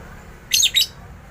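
An aggressive female lovebird gives two sharp, high-pitched chirping calls in quick succession, loud and close over a quiet background.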